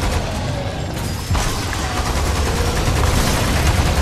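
Machine gun fire in Lost Planet 2 rattles continuously and loudly in a dense sustained burst, with booms and game noise mixed into a constant wash.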